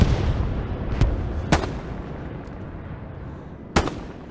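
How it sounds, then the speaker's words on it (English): Gunfire in the Hell Let Loose video game, Stalingrad setting: a few sharp distant shots crack over a rumbling battlefield background, spaced irregularly. "I hear a gun. I hear it."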